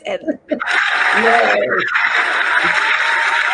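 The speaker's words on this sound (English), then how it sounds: "all of that clapping and cheering and applause" Audience clapping and cheering at a community celebration, a loud sustained burst that swells after a brief spoken word and continues steadily to the end.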